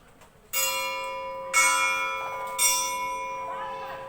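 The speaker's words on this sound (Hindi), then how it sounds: "घंटी लगा दो, घंटी की।" Three loud metallic strikes of a school bell in a classroom, spaced about a second apart, each ringing out and decaying with a sustained tone over faint background noise.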